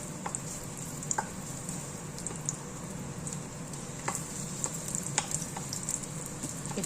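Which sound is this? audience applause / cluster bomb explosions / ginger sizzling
ginger sizzling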